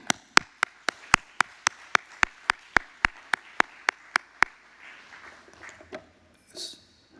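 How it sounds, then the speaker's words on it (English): A single person claps about seventeen times in a steady, even rhythm at a welcome address, each clap sharp and distinct, before the clapping stops and faint room sounds and light voices remain. "So I want to give a round of applause to each one of you."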